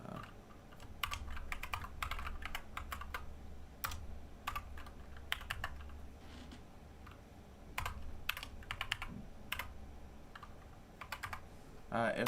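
Keystrokes on a computer keyboard while setting up virtual machines for testing, a steady run of quick clicky taps in bursts with short pauses, close and fairly quiet over a low room hum.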